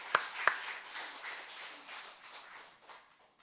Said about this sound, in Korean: 우리 청년들, 우리 청소년들 박수 한번 쳐주세요.